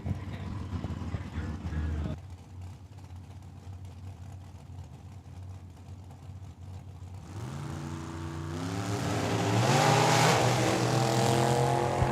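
Dragster at a dragway launching down the strip: after a lull with a public-address announcer talking, a loud engine roar swells and climbs steadily in pitch, growing stronger toward the end.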